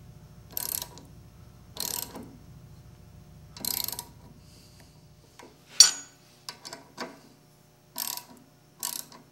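A gear puller works on a rusted gear from a Sears saw. It gives a series of sharp metallic clicks and ratcheting bursts at irregular intervals over a faint low hum, with quiet pauses between the strokes.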